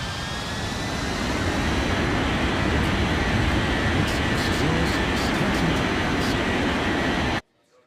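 Airplane taking off from runway 36, a dense, steady jet roar that builds slightly and holds loud before cutting off abruptly near the end.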